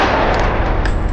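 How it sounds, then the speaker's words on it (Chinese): A single loud, close gunshot rings out inside a submarine's command compartment in the Korean film Phantom, a dense burst that fills the brief moment. "枪声很快引起了武器官的注意"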